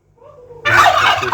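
A bronze turkey gobbles loudly and close, its rattling call rising out of a low grunt and filling the rest of the moment.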